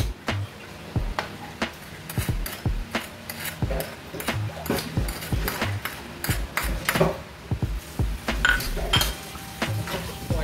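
A utensil stirring vegetables for pancit in a metal pan, giving repeated sharp clinks and scrapes at an irregular rhythm, close and clear over a faint sizzle. Nobody speaks.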